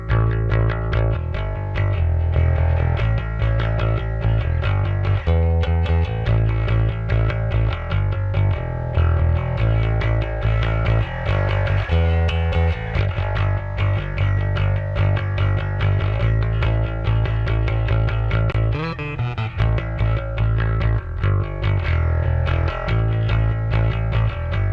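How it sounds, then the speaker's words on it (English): Electric bass played through the Dirt distortion module of the Sonic Anomaly Bass Professor MK2 amp sim, heard as a loud, continuous gritty riff with sustained notes and rhythmic plucking, with no voices. "your signal then goes through this distortion module called Dirt"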